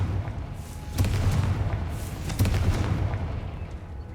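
Explosive Confringo spell blast in Hogwarts Legacy, two deep booming thuds about a second and a half apart, each with a crackling burst, over a low rumble and with no talk.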